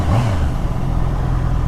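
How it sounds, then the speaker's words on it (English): Motorbikes at a roadside breakfast stop give off a loud, close engine drone, with a brief rising rev at the start that settles into a steady rumble, and no one speaks. "So these are all the bikes."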